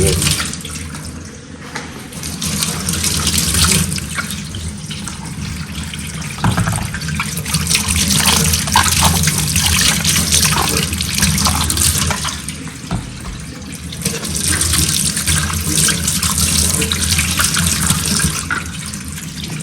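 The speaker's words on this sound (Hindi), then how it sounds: "एप्पल धुल रहे हैं" Apples are washed under a running tap, a loud continuous gush of water with splashing and shifting as the fruit is handled, surging and easing in a few waves.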